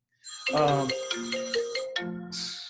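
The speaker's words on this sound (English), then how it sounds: "Sorry, my phone's just ringing." A mobile phone rings loudly and close by, playing a bright, bell-like melodic ringtone of repeated tones that ends abruptly, followed by a brief hiss.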